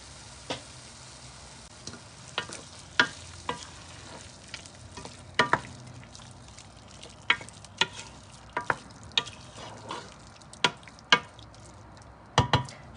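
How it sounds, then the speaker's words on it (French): Meat frying in a pan with lemon and tomato juice gives a steady low sizzle, broken by scattered sharp clicks and scrapes of a utensil stirring against the pan. "Je vais le laisser revenir juste 5 minutes et après je vais mettre l'eau."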